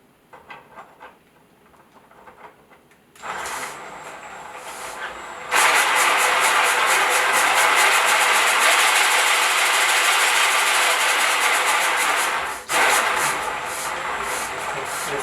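A DIY planetary gear drives a flour sifter crank on its second test: quiet at first, then a loud, steady mechanical whirring drone that holds evenly, with one brief dip before resuming.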